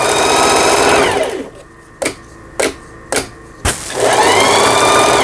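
A Singer 4423 sewing machine runs a zigzag test stitch with a loud, close, rapid mechanical chatter. It stops briefly while four sharp clunks sound, then the stitching starts up again at full speed.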